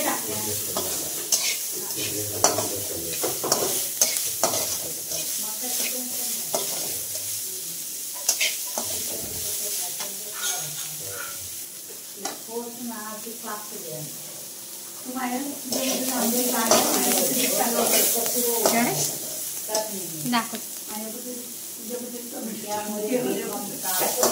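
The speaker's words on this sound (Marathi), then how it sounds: "पहिला काय टाकलंय, कांदा, तेल टाकलंय, त्यात कांदा आम्ही भाजून घेतोय" Chopped onion sizzles steadily in hot oil in a pan, the first step of a home-cooked oyster (kalwa) curry, with a spoon stirring and scraping at intervals while someone talks over it throughout.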